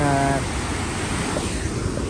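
A mountain waterfall roars as a steady broadband rush, loud and continuous, with a brief voice at the start.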